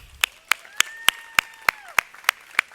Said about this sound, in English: I want you to give you all a round of applause for being here.